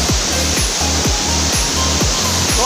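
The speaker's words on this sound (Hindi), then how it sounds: "देखो ऊपर से पानी गिर गिर आ रहा है" A waterfall in Meghalaya pours down from above, a loud, steady roar of rushing water close by, with low rhythmic thumps running under it and no voices.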